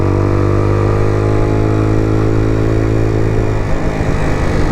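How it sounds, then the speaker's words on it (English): An AJS R7 125 sports motorcycle held in third gear, its engine droning loud and close with a steady, rising buzz before the tone drops away near the end. "picking up speed or going up the revs, because I've just kept it in 3rd gear"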